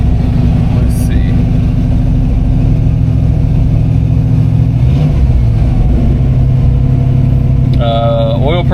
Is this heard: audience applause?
no